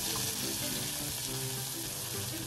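Garlic, onion and cumin paste frying in oil in a kadai for village-style taki fish curry, a loud, steady crackling sizzle throughout with no speech.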